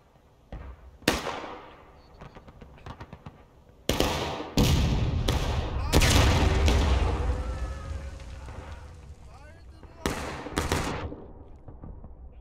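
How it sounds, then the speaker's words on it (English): Cannon and rifle fire in the War of Rights Civil War game: loud sharp cracks and heavy booms in scattered bursts, with rolling echoes and low rumble trailing after the biggest shots. "Yep, they're aiming the cannons right now."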